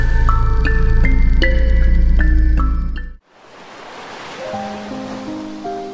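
Ocean waves roar as a steady wash of surf beneath soft background music. The surf follows a brief musical passage that cuts off abruptly, and no voices are present.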